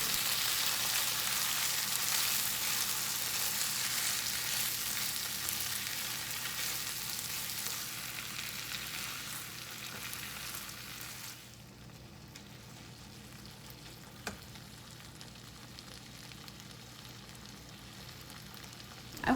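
Potatoes fry in a pan with a steady, fairly quiet sizzle. The sizzle drops and softens partway through as tomato sauce goes in, and a brief clatter follows.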